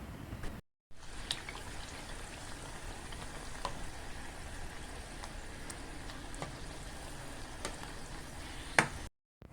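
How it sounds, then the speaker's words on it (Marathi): Sweet pumpkin ghaarge fritters fry in hot oil with a steady close sizzle and crackle, with occasional brief pops and one louder spatter near the end. "याप्रमाणे सर्वच घारगे तळून घ्यायचे आहेत"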